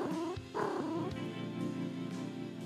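A cat purring in the point-and-click game Randal's Monday, a low rumbling purr heard briefly beneath game music and effects, close and steady over a couple of seconds.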